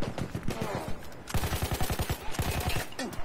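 Rapid automatic gunfire from a low-recoil gun in the video game Battlefield 1, fired in dense, rattling bursts up close with a short break between them.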